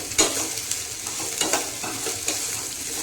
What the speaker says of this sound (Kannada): ಒಂದು ಸ್ಪೂನಷ್ಟು ಎಣ್ಣೆ ಹಾಕ್ಕೊಂಡು ಬೆಂಡೆಕಾಯಿನ ಚೆನ್ನಾಗಿ ಹುರ್ಕೊಂಡ್ರಿ.